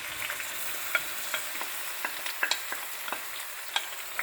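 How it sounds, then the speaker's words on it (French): Chopped onions sizzling in melted butter in a pan, a steady broadband hiss with scattered crackles and pops and occasional stirring taps, no talking. "Je fais fondre le beurre. J'y rajoute mes oignons."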